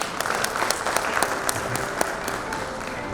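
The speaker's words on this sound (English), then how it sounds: "I would request you to give a round of applause to both of them" An audience at an investment opportunity meeting gives the guests a round of applause: steady, moderately loud clapping with a few distinct individual claps standing out.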